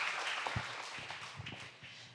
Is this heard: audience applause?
yes